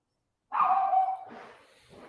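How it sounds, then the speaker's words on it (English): A dog in a home gives one loud close bark that drops into a short whine, then a softer trailing yip, all alone with no talk. "That's not my dog, by the way."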